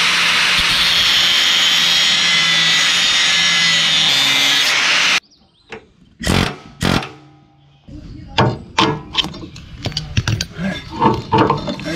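A power tool screams continuously while cutting rounded-off bolts on a Steiner 430 Max tractor, then stops abruptly and is followed by scattered metallic clanks and knocks.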